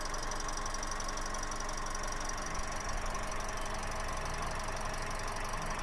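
A Toyota Calya engine idles steadily up close in the engine bay, a constant hum with a faint rhythmic knock and a thin high whine running underneath.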